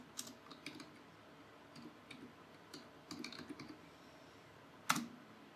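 A command is typed on a computer keyboard in quiet, irregular bursts of soft key clicks. A sharper, louder keystroke near the end sounds like the enter key being pressed. Nobody speaks.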